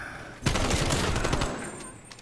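Rapid burst of video game gunfire, loud and dense, rattling for about a second before cutting off.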